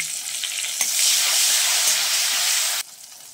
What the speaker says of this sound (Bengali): এবার আমি ফোড়ন দেব কাঁচা লঙ্কা আর তেজপাতা।